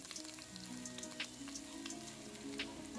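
Sliced onions frying in hot oil with cardamom and cloves for a vegetable kurma, a steady close sizzle with dense crackling pops throughout.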